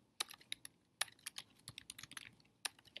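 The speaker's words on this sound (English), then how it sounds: "You guys are seeing how awesome of a typer I am." Someone types quickly on a computer keyboard, producing close, crisp clicks in uneven bursts with short pauses. The sound is fairly quiet and heard alone.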